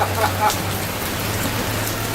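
Heavy rain mixed with hail while travelling in Peru near Machu Picchu, a continuous broadband hiss of pouring rain with a low steady hum beneath and a few brief sharper taps near the start.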